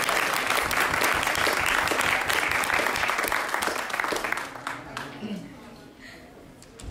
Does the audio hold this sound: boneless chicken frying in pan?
no